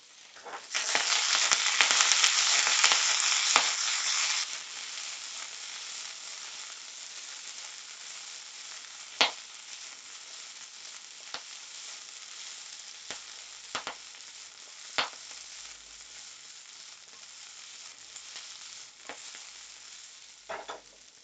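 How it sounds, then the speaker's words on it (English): Hot pan sizzling loudly as moist ingredients for beef peanut stew (kare-kare) hit it, a bright hiss that settles into a steady fry with occasional crackles and stirring clicks, close up with no talking. "sizzle."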